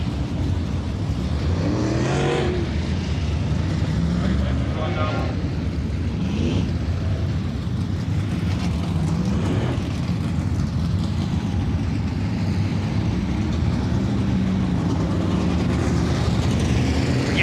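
Dirt late model race cars roll slowly around the Cedar Lake Speedway oval before hot laps, a steady, loud wash of rumbling engines with occasional rises as cars pass close by, no talk.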